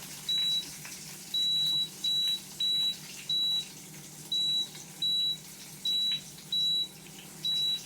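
A Power XL grill's control panel gives a series of ten short, high electronic beeps in a roughly regular rhythm as the timer is set, loud and close over a low steady hum.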